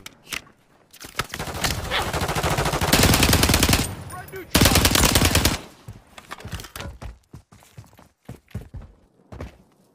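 Rapid automatic gunfire bursts in Call of Duty Warzone, loud sustained volleys for a few seconds, followed by scattered single shots, footsteps and movement noise.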